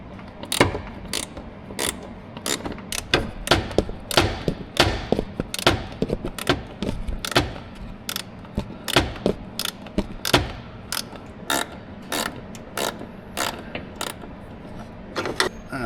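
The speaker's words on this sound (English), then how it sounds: "I'll grab my 7mm and get that taken out." A ratchet with a 7mm socket backs out a bolt while a 2024 Chevy license plate light is swapped for LED units, giving a steady run of sharp clicking bursts with brief pauses, close up and with no talking.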